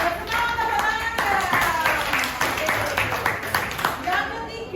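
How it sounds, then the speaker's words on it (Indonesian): A classroom of students claps together in a lively, steady patter, with children's voices chattering and calling out over the applause throughout. "Bersemangat, tepuk tangan."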